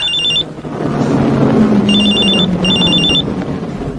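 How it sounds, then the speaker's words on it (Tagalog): Telephone ringing with an incoming call, a loud electronic warbling ring in three bursts with pauses between, heard close up over a low background. "Tumatawag si Clarita."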